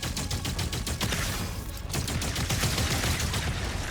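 Rapid gunfire from weapons in Doom: The Dark Ages, a loud sustained barrage of fast repeating shots with one short pause, close and dense throughout.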